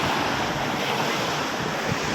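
A cool wind blows after rain outdoors in a steady, loud, broadband rush that buffets the microphone continuously for about two seconds, with no talk.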